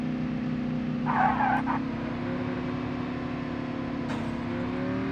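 A car driven in the mobile shooter Call of Duty Mobile: a steady engine drone holding a constant pitch with a brief tire-skid burst, heard without talk.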